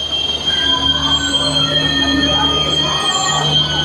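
Wheels of the Sapthagiri Express train squeal continuously as it arrives, with high, sustained screeching tones over a loud rumbling rail noise, close by and steady throughout.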